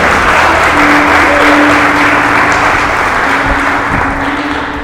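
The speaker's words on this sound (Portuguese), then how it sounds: "uma salva de palmas bem forte para Jesus" A church congregation at a Sunday worship service bursts into loud, sustained applause that fills the room steadily for about five seconds, with a faint held tone running underneath.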